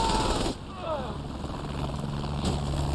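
An attack helicopter in the video game Saints Row The Third throbs with a steady rotor-and-engine drone across the whole stretch, fairly loud and continuous, with a brief tonal whine near the start.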